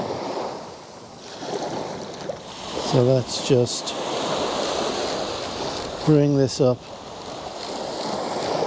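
Waves wash steadily onto a shore near a boathouse on a rainy morning, a broad continuous surf with wind noise, while someone talks briefly twice over it.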